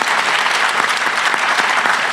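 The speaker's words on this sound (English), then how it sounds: "a round of applause to the brilliant panel" An audience claps steadily after a panel discussion on new technologies, a dense, even wash of applause held at full strength throughout with no voices over it.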